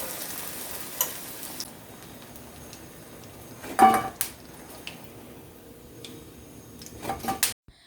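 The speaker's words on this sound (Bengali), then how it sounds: "তো চলো যাই, বেগুনটা ভাজি পটাপট" Eggplant frying in a pan, a faint low sizzle beneath louder clinks and knocks of a utensil against the pan, with several sharp taps toward the end.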